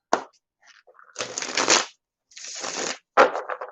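A Zombie Tarot deck is shuffled by hand in close, crisp riffling bursts of card flutter, separated by brief silent pauses, with no talking.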